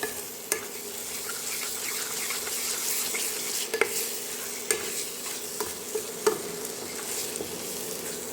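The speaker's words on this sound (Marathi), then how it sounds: "मसाले छान भाजू देते" Spices frying with potatoes and peas in a pan, a soft continuous sizzle broken by occasional scraping clicks of stirring, close and alone without talk.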